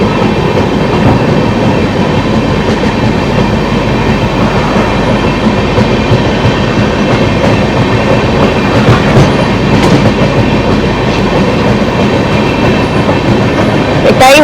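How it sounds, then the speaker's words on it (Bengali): Kanchankanya Express running through the Dooars, heard from on board as a loud, continuous rumble with steady rhythmic clickety-clack of wheels over rail joints throughout. "ওই জন্য ট্রেন স্লো হচ্ছে।"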